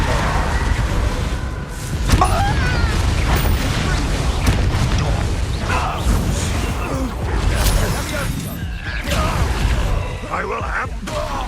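A Confringo blasting spell goes off in Hogwarts Legacy, a heavy booming blast within a dense, continuous rumble of combat effects, with spell impacts and crackles layered throughout.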